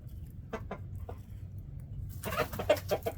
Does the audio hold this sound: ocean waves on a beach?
no